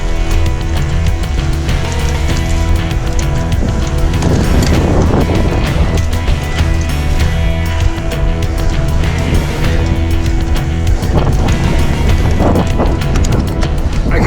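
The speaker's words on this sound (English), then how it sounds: "It's quite windy, so apologies if it's quite difficult hearing us." Strong wind roars across an exposed hill climb course, buffeting the microphone in a constant loud rush with a steady tonal drone underneath for the whole stretch.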